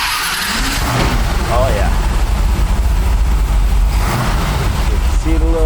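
A 1970s Plymouth Cuda muscle car pulls away with a loud, rumbling V8 engine that revs and growls up close, while someone talks briefly over it.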